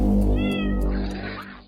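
A mother cat nursing her kittens lets out a single loud, close meow that rises and then trails off, drawn-out and alone.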